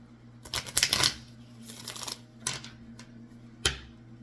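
Tarot cards being shuffled by hand in several quick riffling bursts, close and crisp in a quiet room, with short pauses between each run.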